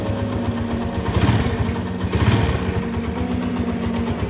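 A 2010 Honda Tiger Revo 200cc motorcycle idles close by, its steady low exhaust throb swelling briefly twice as the throttle is blipped, with no talking.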